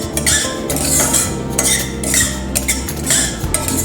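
Poppy seeds dry-roasting in a metal pan, with close clinks and scrapes of a utensil against the pan coming in bursts over a steady background hum.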